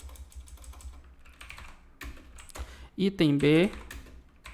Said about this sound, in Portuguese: Aqui você aperta o Tab no teclado.